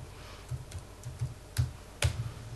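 A few scattered keystrokes on a Finnish-layout computer keyboard, soft individual clicks spaced irregularly over a quiet background, with no talking.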